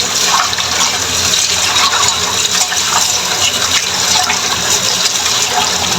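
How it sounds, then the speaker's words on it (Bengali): Running water pours and splashes steadily as a pabda fish is rinsed clean with salt in a kitchen, a continuous close, loud gush with no voices. "মাছটাকে ভালো করে ধুয়ে নিব একটু লবণ দিয়ে মাছটা ধুয়ে নিলে মাছটা ভালো পরিষ্কার হয়"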